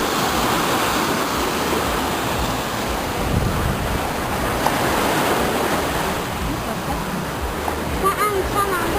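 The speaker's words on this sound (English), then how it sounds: "I'm here at the sea, at the Black Sea" Waves breaking along the Black Sea shore in Bulgaria, a steady broadband wash of surf with wind buffeting the microphone, continuous and fairly loud throughout.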